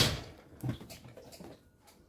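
An oven door closes with a soft thump in a quiet home kitchen, followed by a couple of faint knocks and settling sounds, with no voices.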